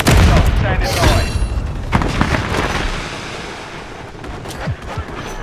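Semtex grenade blast in Call of Duty: Modern Warfare III, a loud close boom at the start with a long rumbling tail, followed by scattered gunfire cracks and a shouted voice.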